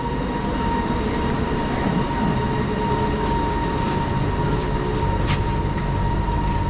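A metro train in Kuala Lumpur riding between stations, a loud, steady rumble and rush of wheels on rails heard from inside the carriage, with a faint tonal whine and occasional rattles.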